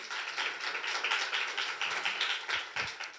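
A church congregation claps loudly in an even, rhythmic run of sharp claps that carries on for the whole moment.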